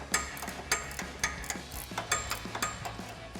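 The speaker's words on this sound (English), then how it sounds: "We're going to take our 18mm ratcheting wrench, slide that onto our nut" An 18mm ratcheting wrench works a nut on a Jeep Gladiator JT suspension lift, giving a quick close run of sharp ratchet clicks in an even rhythm.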